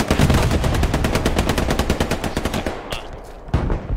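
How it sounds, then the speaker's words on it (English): A German machine gun in the Hell Let Loose war game fires a long, rapid burst of evenly spaced loud shots, then pauses before a single further report. "You hear that German MG."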